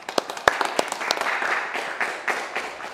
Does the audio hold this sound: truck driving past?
no